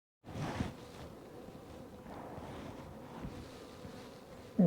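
Honey bees buzz around their hives outdoors, a faint continuous droning hum with slight wind, steady throughout without speech.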